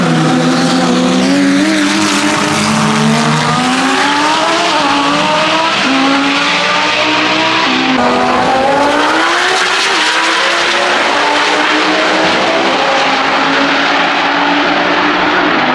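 A McLaren 765LT supercar revs hard with a loud, continuous engine roar that rises and falls in pitch through gear changes, mixed with tire squeal, close and alone with no talking.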